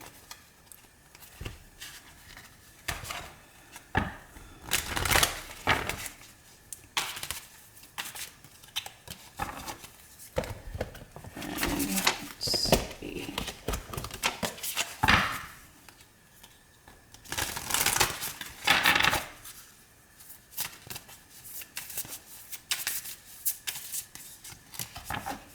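Oracle cards shuffled by hand in repeated bursts, crisp riffling and slapping patter close by, fairly loud with brief pauses between rounds and no talking.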